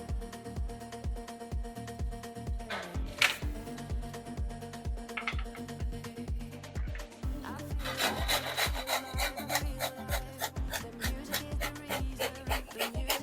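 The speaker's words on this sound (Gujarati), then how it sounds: "આપણે દૂધી છીણી લીધી છે." Bottle gourd (dudhi) being grated for pulao, a steady rhythm of rasping scrapes repeating about twice per second, close and clear, speeding into quicker strokes in the second half.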